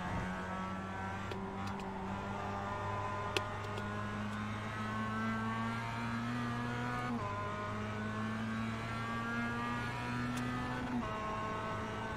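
Race car engines in iRacing, a steady close engine drone holding high revs with one sharp shift in pitch partway through and other cars faintly nearby, no talking.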